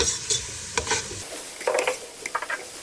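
White sauce pasta is stirred and mixed in a pan: a spoon scrapes and clicks against the metal in quick irregular strokes over a soft sizzle, close and fairly clear, with no talking.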